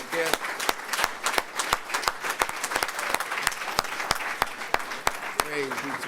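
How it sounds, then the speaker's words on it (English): A gathering honours its guests with a warm round of applause, scattered crowd clapping overlaid by a few loud, sharp, close claps at a rhythmic pace, while a voice speaks briefly at the start and near the end. "Let's give all those that came a warm round of applause"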